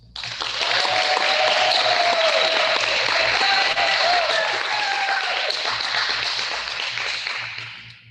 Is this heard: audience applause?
yes